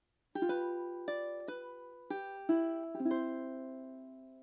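A ukulele plays the opening of a theme tune as a clean, close sequence of plucked notes and strummed chords. The rhythm is slow and spaced, and the last chord rings out with no voices.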